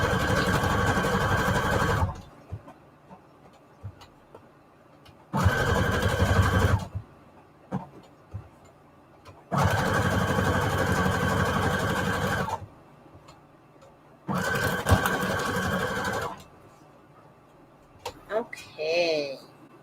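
A sewing machine stitches lace and fabric scraps onto card junk journal tags in four loud, close bursts of rapid whirring, each lasting a few seconds, with quiet pauses and small handling noises in between.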